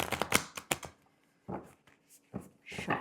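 Tarot and oracle cards riffled and shuffled in several quick bursts, close and crisp, with short pauses between the runs of flicking card edges.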